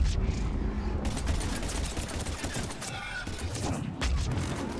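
Gunfire in Mass Effect 3 combat, a busy run of sharp repeated shots and bursts at fairly close range, fairly loud and steady across the whole stretch.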